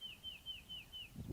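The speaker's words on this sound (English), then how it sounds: "Nothing except birds, right?" A bird gives a short series of about five high, repeated chirps, faint and evenly spaced, with a low thump at the end.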